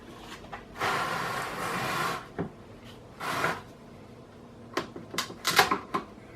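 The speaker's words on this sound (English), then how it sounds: "I'm using this card so I don't chip my mold surface. I'm just kind of walking it along." A plastic gift card is walked and scraped along a mold surface, giving a few sustained scraping strokes followed by a cluster of short, sharp clicks and scratches near the end, close up and with no talk.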